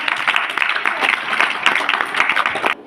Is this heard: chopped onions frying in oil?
no